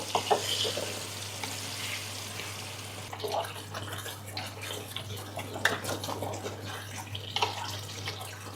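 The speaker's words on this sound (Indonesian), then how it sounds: "Oke, bumbu baladonya ini kita masak dulu ya guys. Sampai udah nggak langu lagi." Balado chili spice paste fries in a pan with a steady, fairly quiet sizzle, broken by occasional scraping and stirring, over a low constant hum.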